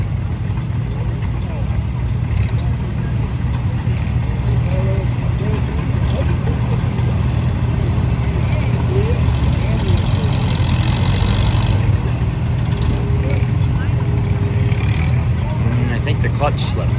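A 1943 Farmall H antique tractor at a tractor pull, its engine roaring steadily and loudly throughout under crowd and announcer chatter.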